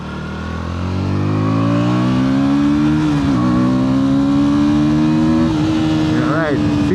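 A KTM 160 Duke motorcycle engine revs up steadily and holds a high, buzzing pitch close by, with a couple of quick throttle blips near the end.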